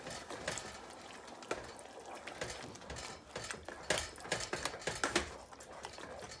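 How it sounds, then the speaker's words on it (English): A spoon scraping and clattering against a pot of BBQ baked beans as they are stirred over medium heat, a string of short, irregular clicks and scrapes close by with no talking. "give that a stir"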